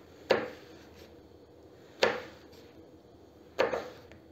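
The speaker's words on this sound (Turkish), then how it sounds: "Doğrarken de önce ortadan 2'ye keseceğim." Three separate knife chops through eggplant on a cutting board, each a sharp thud spaced more than a second apart, with quiet between.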